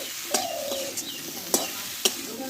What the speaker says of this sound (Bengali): ভালো করে আমি কষিয়ে নেবো ভেন্ডিটা